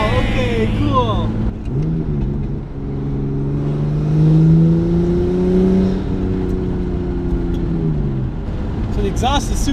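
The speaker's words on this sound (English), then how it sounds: "So the exhaust is super droney. This has a Tomei titanium exhaust" A right-hand-drive Nissan Skyline R34 with a lightweight Tomei titanium exhaust cruises at about 45 km/h, its exhaust holding a loud, steady low drone that rises and falls slightly with throttle, while people talk inside the car.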